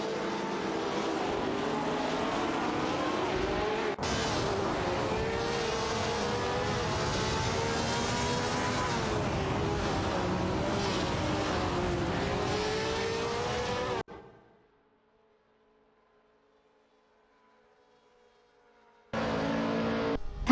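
Race cars, a Ferrari 312 among them, roar loudly and steadily with shifting engine pitch in a racing video game. The sound cuts off abruptly into several seconds of near silence, then returns.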